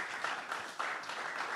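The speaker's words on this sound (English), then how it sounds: "Let's appreciate our panelists with a big round of applause for" Applause for panelists at an innovation and commercialization conference, a short, faint, even patter of many hands clapping together.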